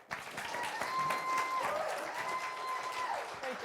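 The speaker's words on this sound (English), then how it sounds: "Let him clap for you." Audience applause at a city State of the City address, steady clapping from a crowd sustained for several seconds, moderately distant, with no one speaking over it.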